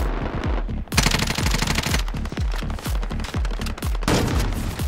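Rapid automatic gunfire from a GROZA rifle in a shooter video game, loud and close, bursts repeating almost continuously with brief pauses, no talking.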